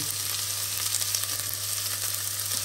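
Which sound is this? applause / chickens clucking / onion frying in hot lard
onion frying in hot lard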